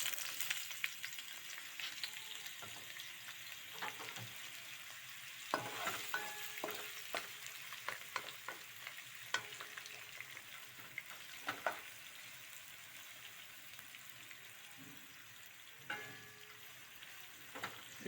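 Onions frying in hot oil sizzle steadily at low volume, with frequent light scrapes and clinks of a spoon stirring them through the pan, heard up close and without voices.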